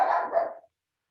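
A puppy gives a single short, loud bark close by, then stops abruptly into silence.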